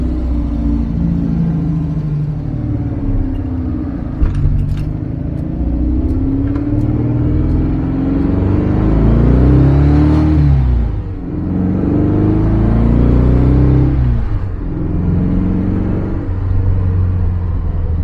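A Volkswagen Beetle with a 1900 engine runs steadily close by, its low rumbling idle rising in pitch through several revs before settling, loud and continuous with no talking.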